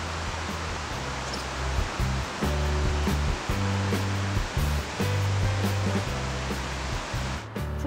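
A river flowing past a picnic rest area along the Romanche valley, a steady broadband rush of water sounding close and continuous, with low rhythmic tones running underneath.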